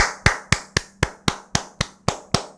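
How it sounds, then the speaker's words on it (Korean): Hand clapping, nine sharp, evenly spaced claps in a steady rhythm, close and distinct with brief decays between, alone without talk. "박수 한번 또 칠게요."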